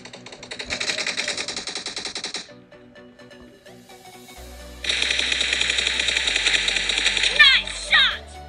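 Rapid bursts of gunfire in the PUBG mobile game ring out in two long stretches separated by a quieter gap, with game sound effects and a voice announcing over the action.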